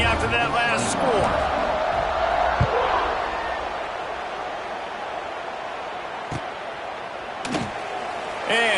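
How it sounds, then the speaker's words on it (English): Football game crowd buzzes steadily after a score, a broad roar of many voices filling the stadium with a few sharp thuds and bangs, while an announcer talks over it. "this crowd is buzzing after that last score"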